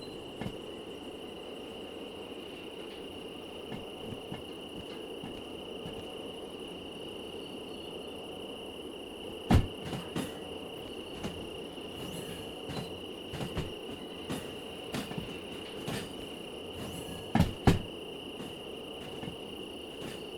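Crickets chirp steadily and softly in a nighttime ambience in the train simulation game Derail Valley, with a few faint clicks and thumps.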